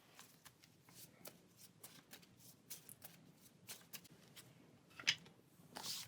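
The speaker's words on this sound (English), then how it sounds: "This card here gets shuffled into her deck." Playing cards from the Pathfinder Adventure Card Game are shuffled into a deck, a quiet run of close papery riffles and flicks in irregular bursts, with no speech.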